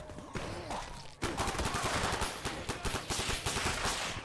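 Flare gun fired in Garry's Mod amid a zombie-horde fight: a quiet lead-in, then a sudden loud burst of rapid, overlapping shots and bangs running steadily to the end.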